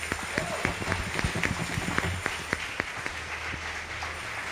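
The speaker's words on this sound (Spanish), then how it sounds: "Que ese aplauso sea para el Señor." Scattered clapping from a church congregation during a worship service, with sharp irregular claps over a low murmur of voices and room hum, moderately distant.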